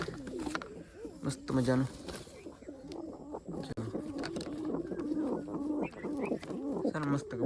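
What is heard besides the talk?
pigeons cooing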